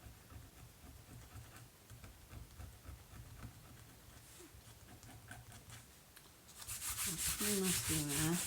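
Masking fluid rubbed off a painting by hand, heard as a steady, close, soft dry rubbing with repeated strokes, swelling into louder, brighter scrubbing near the end.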